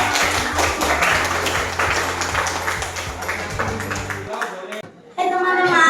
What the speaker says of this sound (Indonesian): Tepuk tangan untuk kelompok Granska.